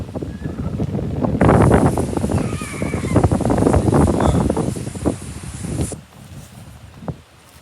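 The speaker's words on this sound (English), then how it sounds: "It's windy out here today." Wind buffets the microphone outdoors at a park bench in strong gusts, a rough low roar that dominates most of the clip before dropping off near the end.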